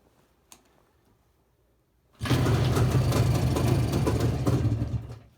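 A JAWA motorcycle engine with 6V ignition starts from cold after a quiet pause, catching abruptly and then running loud and steady up close before it begins to fade at the end.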